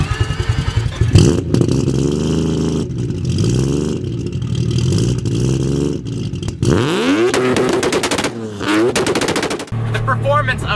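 A modified turbocharged 1993 Mazda RX-7 with a three-rotor rotary engine revs hard toward its 8,000 RPM redline, with a loud, rapid staccato rattle like automatic gunfire and sweeping rises in pitch through several pulls.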